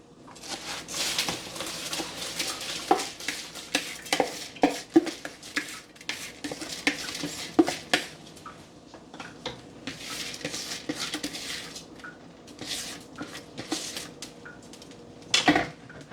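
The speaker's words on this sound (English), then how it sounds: "Now I'm going to go ahead and add it in my pot" Ingredients tipped into a cooking pot of Jamaican stew peas with beef and pig's tail, a scatter of clinks, taps and patter against the pot over several seconds, with a louder clatter near the end.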